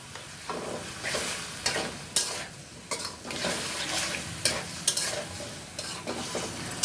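Vegetable curry with green chilli and water stirred in a pan: a steady simmering sizzle with repeated scraping strokes of a spoon against the metal, close and moderately loud, no talking.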